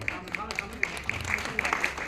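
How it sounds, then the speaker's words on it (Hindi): Rhythmic clapping from a crowd at a teachers' honour ceremony in Patna, crisp claps falling in a steady beat over a low hum of voices. "तालियां बजती रहनी चाहिए"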